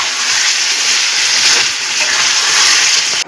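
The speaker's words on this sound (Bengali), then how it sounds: "ও ভালো করে নাড়িয়ে নিলাম।" Potato and pointed gourd curry with a spoon of ghee being stirred in a hot pan, giving a steady, loud close sizzle and hiss that continues throughout with slight swells.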